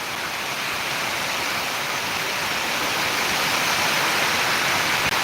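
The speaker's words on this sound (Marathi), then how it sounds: "आज मुसळधार पाऊस या ठिकाणी मेकरमध्ये चालू आहे" Heavy monsoon rain pours down in Mehkar, Buldhana district, in a steady, loud roar, a constant dense hiss with no pauses and no voices.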